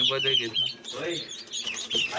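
Native desi village hens cluck in a busy, close flock while thin, high chicks peep repeatedly over them, with faint voices in the background.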